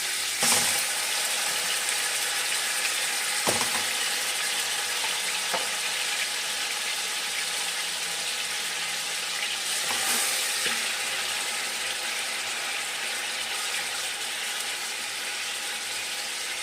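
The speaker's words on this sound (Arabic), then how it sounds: "وهلا بننزل قطع الفروج، بنقليهم شوي بالزيت" Pieces of chicken thigh sizzle steadily in hot oil while browning for an Algerian chtitha, a dense crackling hiss lasting throughout, with a few sharp clatters of turning or stirring near the start and middle, no voices.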